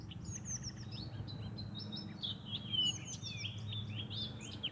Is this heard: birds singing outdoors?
yes